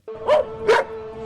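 Two sharp dog barks a fraction of a second apart, close and loud, followed by a steady background hum.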